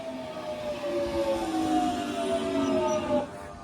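A London Underground train near Dollis Hill, heard from on board, gives off a rising electric motor whine with steady tonal hums and a low rumble, fairly close and continuous, ending abruptly just before the end.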